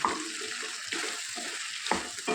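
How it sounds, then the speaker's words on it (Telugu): Okra pieces fry with onions in an open pan, a continuous close sizzle with brief stirring scrapes and clatters. "మూత లేకుండా ఈ బెండకాయలని వేయించుకోవాలి."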